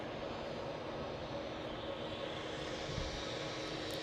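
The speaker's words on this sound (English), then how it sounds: "we've got British Airways off to London City with an Embraer 190. You'll be able to hear that" A British Airways Embraer 190 jet taking off at Edinburgh airport, a steady distant engine roar and rumble that holds constant and faint throughout.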